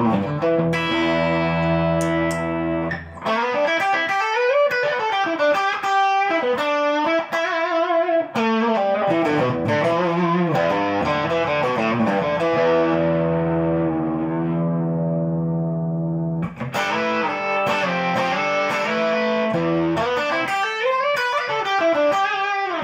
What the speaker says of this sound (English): So let's try some distortion.